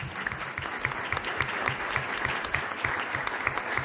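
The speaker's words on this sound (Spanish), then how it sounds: "un aplauso pues para el hermano" Applause in a church debate setting, a clear rhythmic round of clapping from a gathered audience, moderately faint, keeping an even beat for several seconds.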